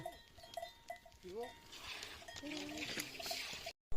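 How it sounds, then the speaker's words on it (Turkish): Mixed-breed hair goats, crosses of black goats and Maltese goats, bleat repeatedly across a herd on a farm. Overlapping calls come near and far over rustling and outdoor background, with a person speaking briefly among them. "Burada abimiz kıl keçisi dedi, kara keçi dedi ama oldukça melezler var."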